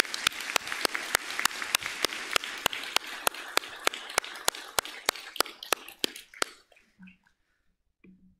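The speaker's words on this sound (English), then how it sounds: "can we give the faculty another round of applause?" Audience applause for the faculty at a spring art and design school commencement, a sustained crowd clapping wash cut by a strong, regular rhythmic beat, then fading out near the end into near silence.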